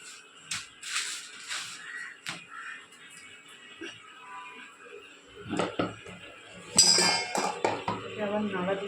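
Fish being stirred in a cooking pan, with metal utensil clinks and scrapes against the pan in irregular bursts, louder near the end, while people talk intermittently.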